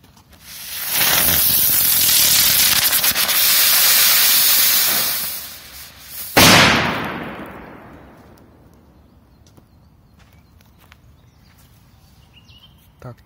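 A ground 'rose' firework fountain with an explosion hisses loudly and steadily for several seconds outdoors, then a single sharp firecracker bang rings out and fades away to quiet.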